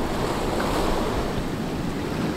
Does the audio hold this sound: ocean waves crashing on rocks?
yes